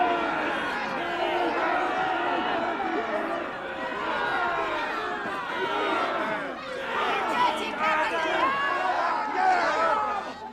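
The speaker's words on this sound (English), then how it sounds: "Angry crowds regularly thronged round Westminster, demonstrating against the king and his bishops." Angry crowd of demonstrators thronging around Westminster, a dense continuous roar of many raised voices with shouts and chatter, swelling and ebbing but never breaking, close and loud throughout.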